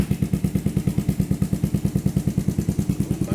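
A 2009 Suzuki Quadsport 90 ATV fitted with a Big Gun Mini full exhaust runs after a cold start, its small engine putting out a fast, even, steady popping putter, close up and alone.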